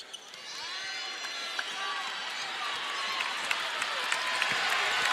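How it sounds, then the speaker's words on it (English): Crowd applause and ovation fill an indoor arena at a WNBA opening-day game between the Connecticut Sun and Las Vegas Aces, a steady dense roar of clapping with faint squeaks and bounces beneath. "the Sun hearing the applause from the crowd here inside"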